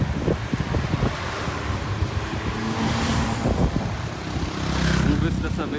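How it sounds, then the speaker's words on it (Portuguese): A strong windstorm in Umuarama, Brazil, buffets the microphone with loud, steady roaring gusts that carry dust, swelling near the end, while a voice talks faintly underneath. "Olha só, muito vento,"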